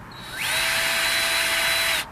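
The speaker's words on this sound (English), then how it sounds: "I'm going to drill another hole here" A power drill bores a hole in a front window frame: a short whine spins up, holds a loud, steady high pitch for about a second and a half, then cuts off abruptly.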